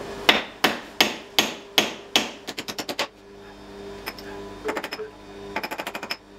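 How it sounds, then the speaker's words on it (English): A short hammer taps a small metal chisel while forging a sword, in sharp, ringing strikes: single blows, then quick flurries of rapid taps, close and clear with pauses between. "I have to use a little sort of chisel and a shorter hammer."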